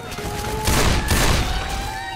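Rapid gunfire in the zombie shooter Left 4 Dead 2, a dense, loud, continuous crackle of shots with a steady tone running underneath, no clear speech over it.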